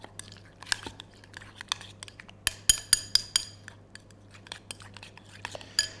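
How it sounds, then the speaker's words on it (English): Cauliflower fritter ingredients are mixed in a bowl, with sharp, close clinks and crunchy scrapes of a utensil against the bowl in an irregular flurry over a low steady hum. "So we're just going to mix them together."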